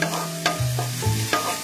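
A tablespoon each of oil and minced shallots and garlic sizzle and crackle in a pot while being stirred, with soft scraping knocks recurring every half second or so.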